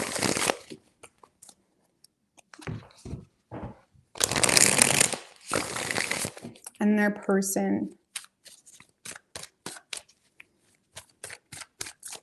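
Tarot cards riffled in three bursts of crisp shuffling, with a soft papery rattle between, near and clear, while a voice talks quietly in places around them.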